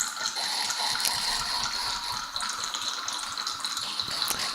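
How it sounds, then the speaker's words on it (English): Red wine poured through a wine aerator, a continuous bright gurgling, bubbling rush with fine rattling texture, close and steady for a few seconds with no talk. "that is the sound, of course, of the aerator that we tested back, I think, in episode 4"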